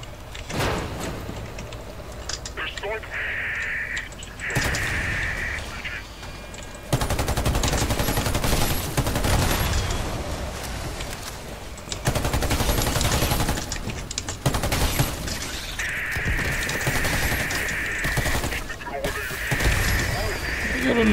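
AK-47 Gold rifle fired in the video game Warface, repeated bursts of loud automatic gunfire separated by short pauses and reload clicks, with someone talking intermittently between the volleys.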